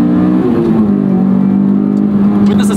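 A Honda S2000 AP2 engine with an 8,000 RPM redline revs hard and loud from close by in a steady, sustained wail that climbs slightly, with a strong harmonic tone throughout and no talking.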